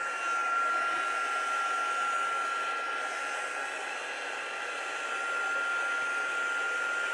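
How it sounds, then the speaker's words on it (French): Heat gun blowing steadily on silver embossing powder during a craft embellishment, a continuous loud broadband whoosh with a faint high whine, running alone without pause. "Et avec le fer à chauffer, pistolet à chauffer"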